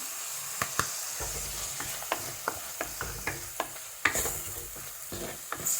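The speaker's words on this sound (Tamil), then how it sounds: "இது இப்போ தக்காளி கொஞ்சம் வதங்கட்டும்." Tomatoes sauté in a pan with salt, turmeric and chili powder for amla rasam, a steady close sizzle punctuated by regular scraping taps of a spoon stirring.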